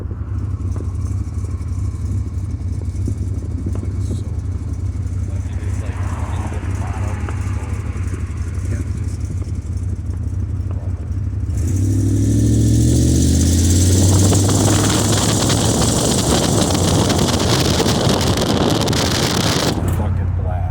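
A 1974 Plymouth Gran Fury with a 440 cubic inch police-spec V8 rumbles from inside the moving car, then revs hard and loud midway, with wind noise and voices talking over the engine throughout.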